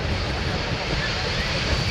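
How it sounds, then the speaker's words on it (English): A C-17 Globemaster III jet transport touching down at an airshow, with a steady, loud roar of engine and rushing air filling the whole stretch, nearby and continuous. "Watch now as the C-17 touches down"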